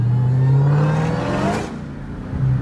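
A Dodge Hellcat with traction control switched off roars loud and close as its engine revs and the wheels spin, the pitch climbing and then dipping briefly before surging again.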